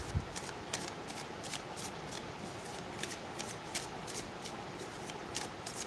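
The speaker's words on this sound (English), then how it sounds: "Shuffling." Tarot cards are shuffled by hand, a steady run of soft, close riffling and slapping card sounds with crisp little flicks, no talking over it.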